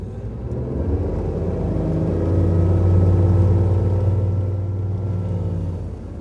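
A Stingray 208LR motorboat engine drones steadily as the hull rumbles over choppy water, the roar swelling midway and easing off, with no talking.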